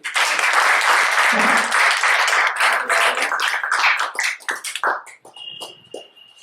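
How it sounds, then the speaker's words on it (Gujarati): Audience at a medical seminar on chest X-ray interpretation bursts into loud, dense applause that holds for several seconds, then thins into scattered claps and fades out, with a brief voice near the end. "બધા માટે તાળીઓ થઈ"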